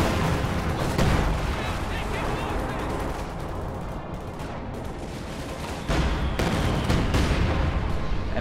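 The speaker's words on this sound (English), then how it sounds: "ML-20 is bombarding the center of victory point to try and soften up infantry formations" Heavy artillery fire from ML-20 howitzers in a WWII strategy game, a dense, continuous roar of booming shells and crackling gunfire, loud and sustained with a brief lull midway, voices faintly present.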